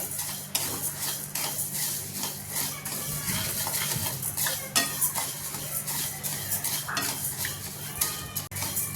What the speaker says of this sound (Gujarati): ધાણા અને જીરું આપણે સાથે શેકી લેવાના છે